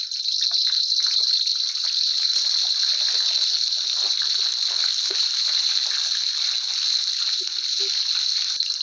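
Onions sizzling and spitting in hot oil in a kadai, a steady close, loud frying hiss that runs unbroken throughout, with a few faint pops and no one speaking.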